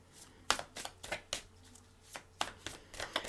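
Tarot cards being shuffled by hand close up, quiet and crisp, in a run of about a dozen short riffling snaps and flicks with brief pauses between them.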